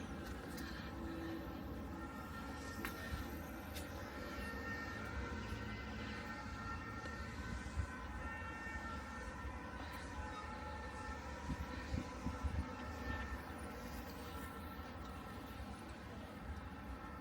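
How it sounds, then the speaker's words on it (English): A passenger train rumbles past at a distance, a steady rolling roar with faint rail hum lasting throughout. "No, it's a passenger train."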